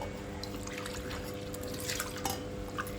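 Water is poured into a pot of broccoli, mushroom and corn pulav, a soft continuous trickle and splash with a few brighter drips, heard close and quiet with no speech.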